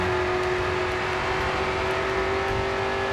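A race car engine drones steadily and loudly while driving in the video game Grid 2, holding a constant pitch with no pauses and no voices.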